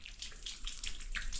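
Water runs from a tap in a home bathroom, a steady splashing stream with bright bursts, fairly close and continuous, with no talking.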